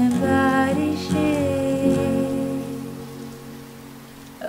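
Steady rain falls under a woman singing a Hindi song, a soft continuous patter that stays in the background throughout while her voice carries the melody on top.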